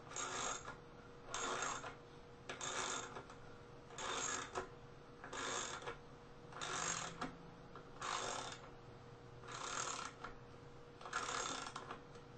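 A lag bolt is tightened on a hammock stand with a ratchet, giving nine evenly spaced bursts of clicking about every one and a half seconds, quiet and close, with no talk.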